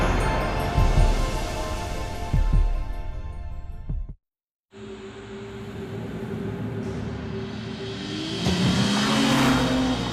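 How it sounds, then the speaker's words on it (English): A BMW 3 Series sports sedan drives with a steady, loud engine roar that cuts out briefly partway through, then returns and rises slightly toward the end. No voices are heard. "Introducing the new BMW 3 Series, our most advanced 3 yet."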